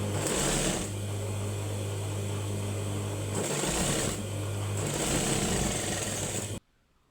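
A sewing machine runs steadily, stitching two kameez pieces together, with a loud continuous whir that briefly dips twice before stopping abruptly.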